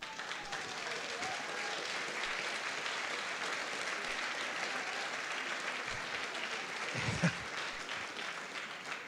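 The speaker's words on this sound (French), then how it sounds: "Vous pouvez d'ailleurs l'applaudir." Sustained applause from an audience at a French talk on societal choices, steady dense clapping throughout with a slight swell near the end.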